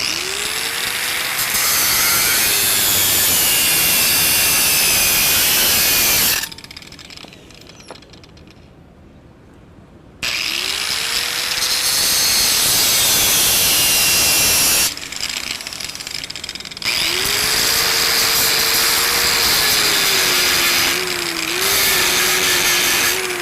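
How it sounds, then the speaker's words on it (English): A grinding wheel is run through the gap of a tacked pipe weld, giving loud, close, high-pitched grinding whine in long bursts with short quieter pauses between passes. "I'm going to go ahead and run the grinding wheel through it like this to open the gap up"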